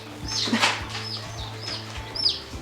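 Several baby chicks in a cardboard box brooder give high, thin peeping chirps in quick irregular bursts close by, over a low steady background hum.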